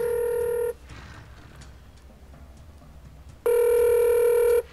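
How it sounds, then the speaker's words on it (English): Telephone ringback tone on an outgoing call, two loud, steady electronic rings heard up close, separated by a few seconds of quiet, with no talking. "It's ringing."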